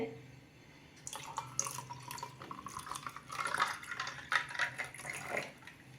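Cold water splashes and trickles unevenly into a vessel for a raw mango drink, starting after a quiet moment and continuing in close, irregular bursts of pouring and dripping.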